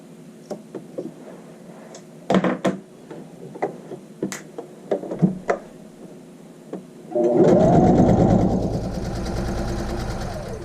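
A sewing machine starts stitching after a stretch of soft scattered taps and clicks, then runs loud and steady with its fast needle chatter close by until the end.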